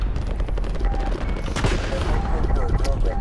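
Rapid automatic gunfire and shots on the Krovnik Farmland Ground War map in Call of Duty: Modern Warfare, loud dense bursts with a few heavier impacts, continuous through the clip.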